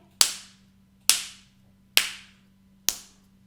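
Four sharp, light claps made with two fingers against one palm, evenly spaced about one second apart, each a crisp snap with a short decay over a faint steady hum.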